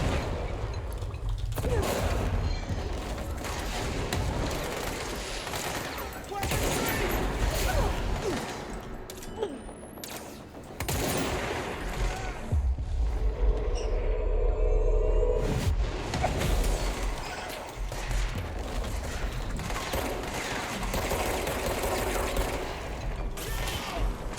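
Gunfire from the video game Control, with bursts of shots and mechanical clatter and whooshes rising and falling in a busy combat mix, with occasional talk over it.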